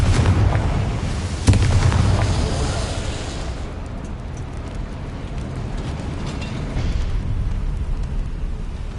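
A Confringo blasting spell explodes in Hogwarts Legacy: a loud, sharp crack followed by a dense, roaring rumble that slowly tapers off over several seconds.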